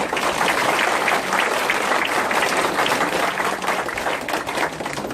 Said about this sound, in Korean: 당원 여러분의 큰 박수와 함께 시작하도록 하겠습니다.